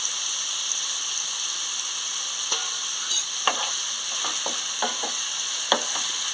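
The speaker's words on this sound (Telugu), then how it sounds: "ఇలా ఎర్రగడ్డ ఫ్రై అయ్యే లోపల" Onions fry with a little salt in a pan, a steady bright sizzle broken by several sharp stirring scrapes and taps, close and fairly loud, with no talk.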